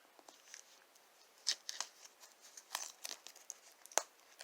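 Cellophane wrap is torn and crinkled off a Pathfinder flip mat, a faint, close run of irregular crackles and rips with a few sharper tears, no talk.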